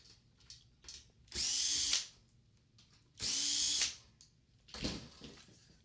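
Screws being driven out of a PS3 CECH-2501A console with a power screwdriver, heard as two loud, close whirring bursts of about half a second each and a shorter third burst, separated by quiet handling noises.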